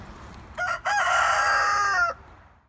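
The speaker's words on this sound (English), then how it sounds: "I like the chicken." A rooster in a garden crows once, close and clear: a short opening note, a brief break, then a long, loud call that cuts off cleanly.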